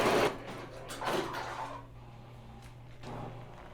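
Ricoma embroidery machine finishing a heart design, a steady low mechanical hum with a short whirring burst at the start and brief clacks near the middle, close and fairly quiet.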